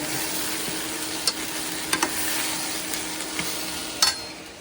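Sabzi vegetables fry steadily in a pan, a continuous close sizzle with a few brief clinks of stirring utensils scattered through it, no voices.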